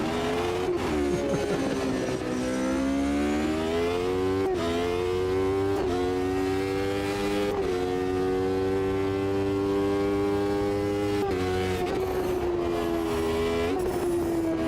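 Race car engine in the video game Automobilista 2, a steady loud drone rising in pitch under load, broken by several sharp upshifts where the note drops and climbs again, with no talking over it.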